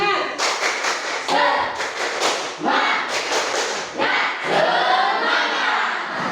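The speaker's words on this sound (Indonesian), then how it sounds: "Ya, tepuk semangat." A classroom of students performs the tepuk semangat spirit clap, loud close rhythmic bursts of hand clapping in a patterned sequence with shouted group voices mixed in.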